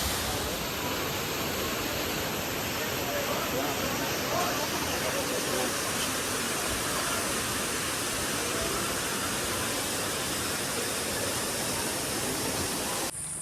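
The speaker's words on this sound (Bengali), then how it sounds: "তোমাদেরকে ওয়াটারফলস দেখালাম" Jonha Falls near Ranchi pours in a dense, unbroken roar of rushing water, loud and steady throughout with no break.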